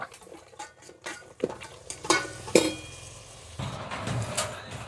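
A utensil stirs fried rice in a pan, producing irregular scraping and scooping strokes with a few sharp metallic clinks, close and moderately loud.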